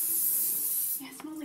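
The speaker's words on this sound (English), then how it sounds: "Oh, this is the beer hairspray now." Beer hairspray blasts from an aerosol can in a steady, close hiss that cuts off after about a second, followed by a brief voice.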